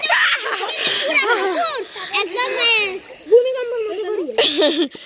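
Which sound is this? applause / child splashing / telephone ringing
child splashing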